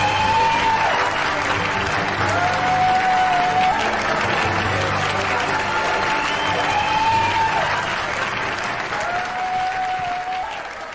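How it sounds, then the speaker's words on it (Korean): A large crowd at a Korean presidential campaign rally keeps up loud, sustained applause as candidate Lee Jae-myung is welcomed onto the stage, with a repeating tonal sweep rising above the clapping. "큰 박수로 맞이해 주시기 바랍니다"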